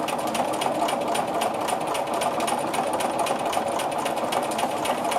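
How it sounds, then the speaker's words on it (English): A sewing machine stitches a grid-based orange peel quilting design, a continuous close mechanical whirring hum that runs at a slow, steady pace throughout, without anyone speaking. "And someone commented about my slow sewing speed, and yes, I do sew quite slowly."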